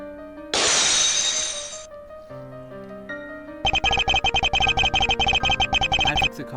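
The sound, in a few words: car crash with shattering glass, video game sound effect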